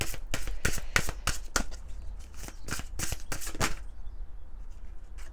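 Oracle cards from the Oracle botanique des divinités deck shuffled by hand, a quick run of crisp riffling flutters and slaps, close and clear, fading to quiet hiss near the end with no talking.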